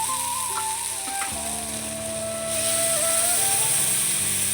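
Spices frying in a pan for ghugni, a moderate continuous sizzle with a faint steady tone beneath, rising slightly louder toward the end, without speech.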